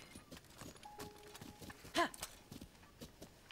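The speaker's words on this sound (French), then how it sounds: "Bah, je vais prendre un cheval." Horse hooves clip-clop in the video game Zelda: Tears of the Kingdom, a few soft, evenly spaced steps, with one louder hoof strike or snort near the middle and no talk over them.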